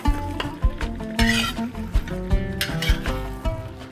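Smoked meat, already mostly cooked, fries in a pan, giving a steady sizzle broken by frequent clacks and scrapes of stirring, loud and close with no talking.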